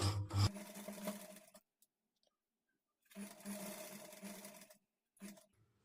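A sewing machine stitches a halter neck blouse in two close, steady bursts of rapid mechanical whirring separated by a silent pause, followed by a brief final run.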